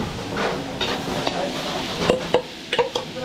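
Onions fry in a pan at an outdoor fiesta, a loud close sizzle with stirring scrapes and clinking spatula taps throughout.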